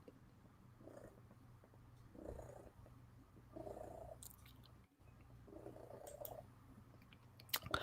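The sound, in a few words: cat purring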